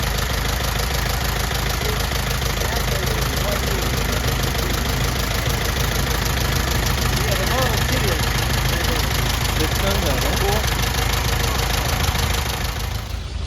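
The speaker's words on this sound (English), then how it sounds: "Here's a 1905 air-cooled Franklin. Let's just listen to it run for a second here." A 1905 air-cooled Franklin car engine runs steadily nearby, a continuous dense mechanical drone with a fast regular knock and a high whine, loud and unbroken until it fades at the very end.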